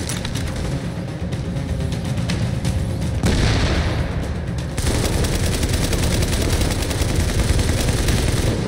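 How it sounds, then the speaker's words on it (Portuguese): A grenade blast in the video game The Division, a heavy rumbling boom that swells midway amid continuous loud gunfire and battle noise. "Vou tacar uma granada lá nele."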